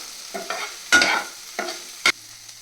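Okra frying with salt and chili powder is stirred in a pan, giving a few separate scraping strokes and two sharper clanks over a faint, quiet background.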